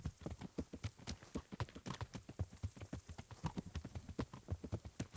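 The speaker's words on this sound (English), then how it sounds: "Minutes and minutes of silent walking on a horse" Horse hooves clip-clop at a steady walking rhythm in the video game Kingdom Come, quiet and evenly paced, with no talking over them.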